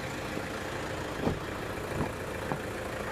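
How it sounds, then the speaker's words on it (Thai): A 2010 Toyota Fortuner 3.0 V 4WD TRD diesel idles in a steady, even rumble at moderate distance, with a few faint ticks and knocks rising above the hum and no talk. "เครื่องยนต์ฟิตมากนะ สตาร์ทติดง่ายนะครับ"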